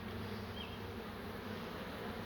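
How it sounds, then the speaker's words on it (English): A dense swarm of honey bees hums inside an open hive during a split, a steady, even buzzing drone with no breaks, heard faintly and close. "A sea of bees."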